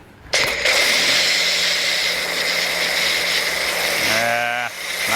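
A foam cannon fitted with a metering tip sprays foam onto a Ford Raptor truck, making a loud, steady hiss that starts abruptly. A brief tonal whine is heard near the end.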